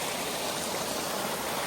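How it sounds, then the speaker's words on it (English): A small stream spilling over a little waterfall on a hiking trail, a steady broadband rush of running water that stays loud and even throughout with no voices. "It's got a little waterfall here."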